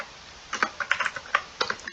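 Someone types on a computer keyboard to copy code, producing a quick, close run of uneven key clicks with no voice over them.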